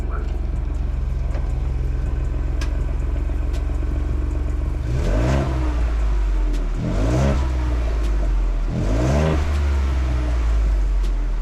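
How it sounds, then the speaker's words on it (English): A Ford Bronco with its stock factory exhaust idles with a deep rumble, then revs three times in quick bursts, each rising and falling, close by and loud. "just a quick sound clip of what the OEM exhaust sounds like"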